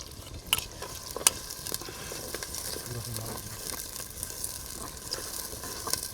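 Onions and green chillies fry in a pan over an outdoor forest cooking fire, a soft steady sizzle with scattered crackles and stirring clicks, fairly faint and partly under a murmur of voices.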